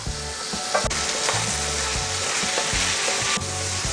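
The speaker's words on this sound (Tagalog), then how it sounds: "Isasangkot siya lang po muna natin yan ng mga ilang minuto para manunuot yung mga bawang, sibuyas at saka luya dito sa ating laman loob" Beef tripe and beef heart sauté with garlic, onion and ginger in a hot pan. A loud, continuous sizzle runs throughout, with periodic scraping stirs and low clunks from the pan. No one speaks.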